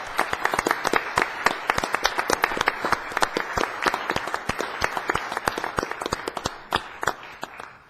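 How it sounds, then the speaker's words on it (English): A round of applause at a city council meeting: a roomful of people clap steadily for several seconds, clear and fairly close, with the sharp individual claps easy to pick out. "Let's all give him a round of applause."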